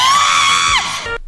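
A virtual YouTuber screams in a played video: one loud, high, sustained shriek that bends downward near the end and then cuts off abruptly to silence.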